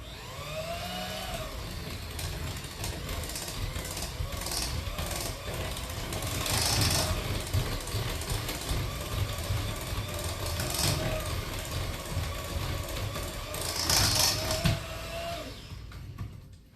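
An electric mixer whirs steadily through cowboy cookie dough after eggs and vanilla are added, a continuous mechanical drone with slight swells in intensity lasting the whole stretch, nearby and without speech.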